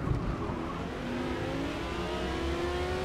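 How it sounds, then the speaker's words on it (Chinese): A Porsche 911 and an Audi R8 race at night at Spa in Forza Motorsport, accelerating out of a corner, with rising engine tones building steadily as both cars pull away. "出弯之后的话，911的加速是比不过R8的"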